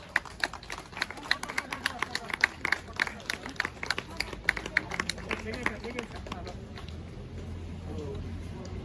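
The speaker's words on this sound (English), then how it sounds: "Round of applause." Audience applause following the welcome of a retired Gurkha major at a march gathering, dense broadband clapping from a crowd that builds over the first seconds and sustains steadily, fairly close and loud.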